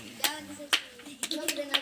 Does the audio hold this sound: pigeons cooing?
no